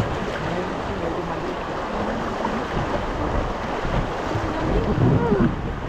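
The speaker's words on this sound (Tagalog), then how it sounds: "Grabe yung hangin." Strong wind buffets the microphone in a steady, roaring rush during a rubber boat ride on a river in Norzagaray, Bulacan, with faint voices underneath throughout.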